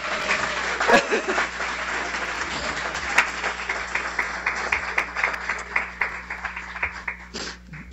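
Applause from the audience at a guide dog graduation ceremony: dense, steady clapping from a crowd indoors, thinning into scattered individual claps near the end, with a little background voice activity.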